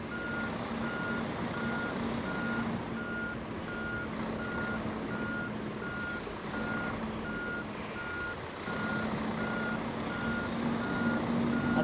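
A truck reversing in a truck simulator video game gives a steady, evenly spaced electronic beep over a constant engine drone for the whole stretch, with no talking.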